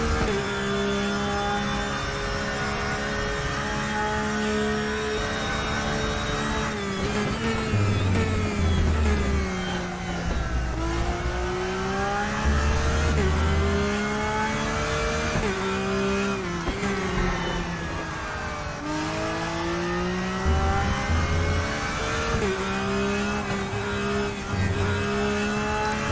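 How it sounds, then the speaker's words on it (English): A race car engine in the RaceRoom racing game holds a loud, steady high-revving drone, rising and falling in pitch through gear changes as the car runs flat out through fast kinks, with no talk over it. "Now we're feeling like a race car."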